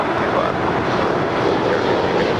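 A DHL Boeing 777 operated by Kalitta Air takes off at Los Angeles International Airport, its jet engines a steady, loud broadband roar that holds evenly throughout with no voices.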